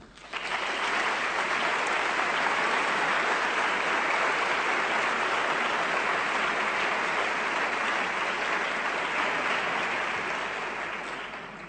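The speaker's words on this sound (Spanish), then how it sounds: "Os pido un aplauso para ellos" Sustained, dense audience applause at a talk on ayahuasca and psychotherapy, rising quickly and holding steady and loud for about ten seconds before easing slightly, with no speech over it.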